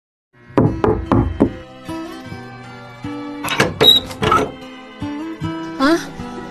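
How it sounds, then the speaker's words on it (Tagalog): Knocking on a door in a Filipino radio drama: sharp knock groups sounding in close bursts, with background music tones between them. "ikaw ba'y kumakatok?"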